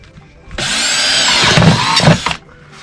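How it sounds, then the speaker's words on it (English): A power drill bores a hole through the plastic lid of a DIY home hydroponics reservoir, a loud close whine that spins up, grinds steadily for about two seconds with a couple of heavier bites, then cuts off. "now we're going to drill a hole down through the lid here"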